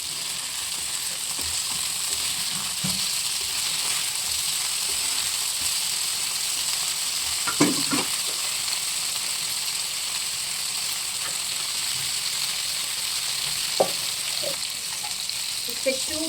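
Fish sizzles steadily on a hot tawa for a village-style fish tawa fry, a loud continuous frying hiss with a few faint clinks and stirring taps over it.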